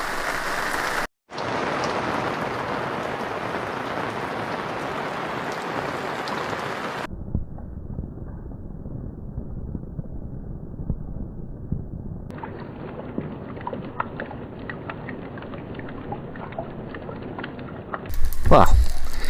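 Rain falls steadily on a rainy-day campsite, a dense hiss that shifts in tone as the position changes, with a brief gap and a louder close rustle at the end.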